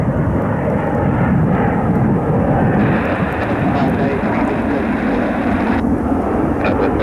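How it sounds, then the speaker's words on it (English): A United Boeing 737-800 airliner landing on runway 24 left at Cleveland, heard as a loud, steady, broadband engine roar that continues through the whole clip, with a voice audible over it. "This United 737-800 is landing on 24 left"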